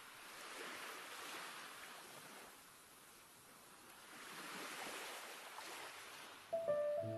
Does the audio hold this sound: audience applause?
no